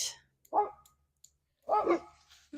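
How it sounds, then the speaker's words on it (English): Two sharp dog barks close by, separated by about a second of quiet, with a faint click in between. "doing her job barking"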